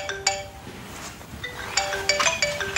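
An iPhone ringtone plays a string of bright, repeated electronic chime notes in several short bursts, moderately loud with no talking.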